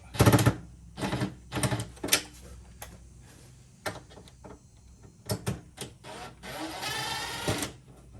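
Screw gun backing a screw out of a mini split wall bracket during a DIY installation, heard as several short bursts of whirring motor with clicks and handling noise in between, close and fairly quiet.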